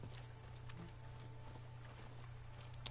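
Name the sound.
horse hooves in video game The Witcher 3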